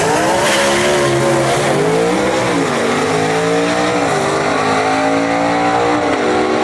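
A Ford Mustang and the Carolina Moon, vintage gasser drag race cars at South Carolina Motorplex, launch with loud, rising engine roars that climb through the gears in a sustained, raw blast.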